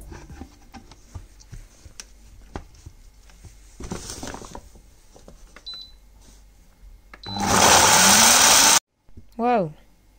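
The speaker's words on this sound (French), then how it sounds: "Blender ça." Blender pureeing rosehip pulp with a little water and seeds, a loud, dense whirring burst of about a second and a half that cuts off abruptly, followed by a short rising whine, after quieter kitchen handling noises.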